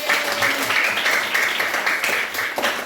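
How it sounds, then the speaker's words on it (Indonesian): Pupils in an elementary school classroom applaud a group, a short burst of fairly close, even clapping that keeps up steadily for a few seconds. "tepuk tangan buat kelompok B"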